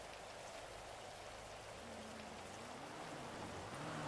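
Steady rain in the GTA 5 game world, a continuous even hiss of falling drops with a low engine-like hum running underneath.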